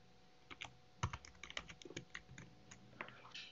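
Close computer keyboard typing as code is entered, a quick irregular burst of key clicks with brief pauses, quiet and alone.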